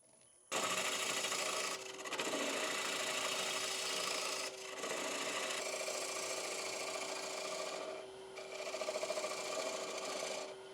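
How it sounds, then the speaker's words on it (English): A half-inch bowl gouge cuts a cherry wood bowl on a lathe to remove the tenon, giving a loud continuous scraping hiss with brief pauses between passes over the humming machine. "Generally use a 1/2 inch bowl gouge to do this job, so very close and tight, just to remove this tenon"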